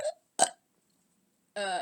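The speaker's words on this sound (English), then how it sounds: "He burps out a little smoke cloud." A voice performs a comic burp for a parody character, two short belch-like bursts followed after a pause by a longer, rougher croak, close and dry.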